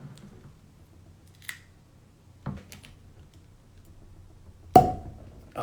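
Wax seal on a Maker's Mark Wood Finishing Series BRT-01 bourbon bottle is cut with a few faint scrapes and clicks, followed by one sharp, close cork pop that rings briefly.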